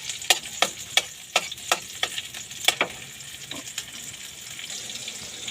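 Tomato and onion sautéing in a hot pan, a steady close sizzle broken by a string of sharp scraping clicks as the pieces are stirred with a utensil, no voices.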